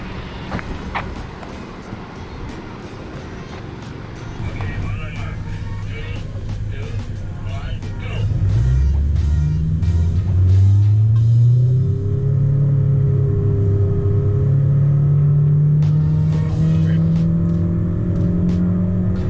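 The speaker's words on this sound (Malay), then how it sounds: "Pecutan Honda HR-V yang datang dengan enjin aspirasi natural" A naturally aspirated Honda HR-V accelerates from 0 to 100 km/h, its engine rising to a loud, sustained drone whose pitch climbs steadily through the gears, heard from inside the car with people talking early on.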